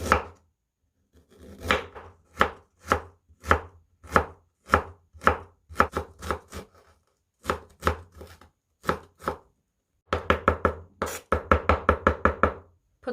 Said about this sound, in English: And this is green onion, cōng. I also will mince them.